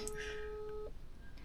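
A single steady electronic phone tone sounds during an attempted video call, holding for under a second before cutting off, under a faint background voice.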